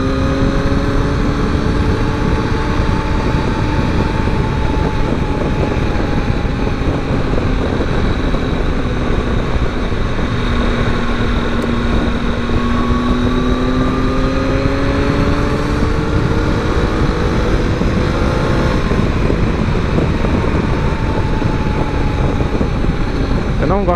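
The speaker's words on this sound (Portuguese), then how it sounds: "Agora dá pra sentir o motor da bichinha." A 2020 Triumph Tiger 800 motorcycle engine drones steadily while riding, its pitch rising and falling with throttle changes under constant wind noise, with a rider talking over it.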